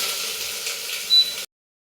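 Sliced onion and cumin seeds sizzle in a hot pan, a soft steady hiss that carries on evenly and then stops abruptly.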